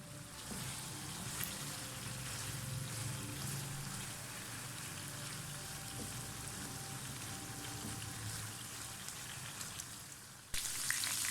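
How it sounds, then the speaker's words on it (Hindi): Chicken pieces for fajitas fry in a pan over a medium-high flame, giving a steady, dense sizzle and crackle that runs unbroken throughout with no voices, and a brief change in tone near the end. "मीडियम हाई फ्लेम के ऊपर हम इसको कुक कर लेंगे"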